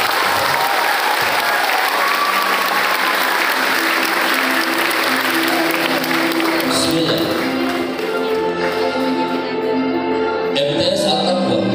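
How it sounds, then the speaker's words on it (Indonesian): Students at a school assembly break into steady, full applause that continues throughout, with a low hum and a few louder claps and taps near the end. "Tepuk tangan untuk kita semua."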